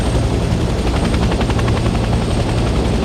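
Helicopter in the Vietnam-era shooter Hell Let Loose: Vietnam, flying with a loud, continuous rotor thrum and engine roar that stays steady and close throughout.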